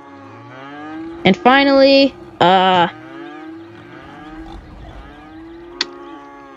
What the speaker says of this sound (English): Those are our four cows.